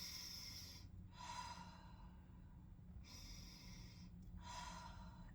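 Deep, fast circular breathing demonstrated in a holotropic breathwork session, with long, loud breath sounds in a steady cycle of three strokes, close and alone with no talk.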